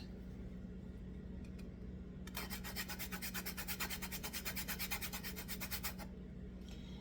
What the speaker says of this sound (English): So now we're going to zest.